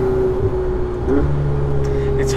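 Ferrari 488 Spider engine pulling hard on a mountain drive, a steady close mid-pitched drone with a shift in tone partway through, heard from inside the car.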